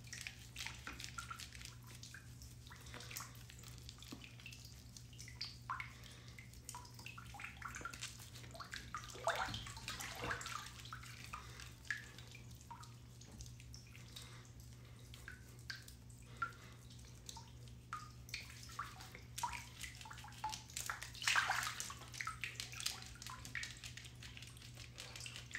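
Water splashes softly and intermittently as a face is washed in a bath setting, with faint drips and sloshes recurring irregularly over a low steady hum, no talking.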